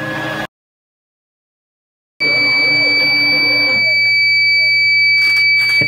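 A UPS inverter running low on voltage sounds a loud, continuous high-pitched warning tone over a steady electronic hum after a brief stretch of silence.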